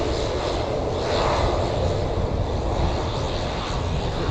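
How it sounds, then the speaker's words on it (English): An aircraft engine runs up for a test at Lanseria International Airport, a steady, loud broadband roar with a droning rumble that holds constant throughout. "What they do is they actually test their engines."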